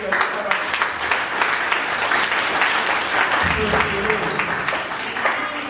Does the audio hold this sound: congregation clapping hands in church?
yes